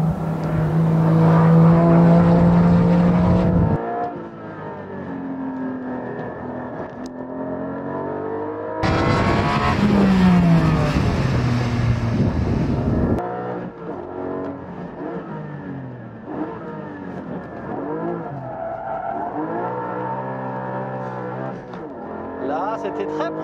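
A Porsche race car laps a circuit, its engine revving hard and swelling loud in two bursts, with tire noise, then easing under ongoing French conversation between the driver and passenger.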